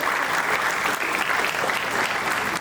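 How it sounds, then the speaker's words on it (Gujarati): A seminar audience in Surat applauds for a daughter with steady, dense, sustained clapping from many people that fills the room at an even level. "આપણે સૌ તાળીઓથી વધાવીએ એમની દીકરીને"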